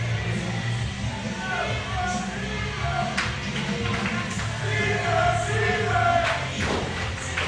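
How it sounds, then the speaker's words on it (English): Crowd at a live wrestling event, a steady murmuring roar of spectators with scattered shouts and claps, heard from a distance, with some voices talking over it. "The crowd getting behind,"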